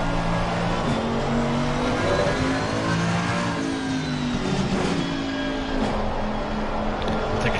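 A GT2 race car engine in Assetto Corsa Competizione downshifts: a steady loud engine drone with stepped pitch drops and brief revs as gears change, with no talk over it.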